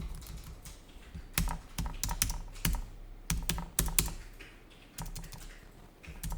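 Computer keyboard typing with Enter presses, quiet close-up clicks in irregular clusters and single sharper taps over a soft background hum, no voices.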